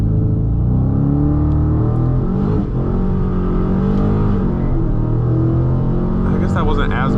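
Dodge Challenger Scat Pack T/A with the 392 V8 accelerating through a quarter-mile run, a loud continuous engine roar climbing through gears under steady in-car rumble, with brief voices near the end.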